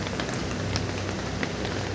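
Rain falling outside a room, a steady dense hiss of drops with occasional louder patters, heard from fairly close, with no talk.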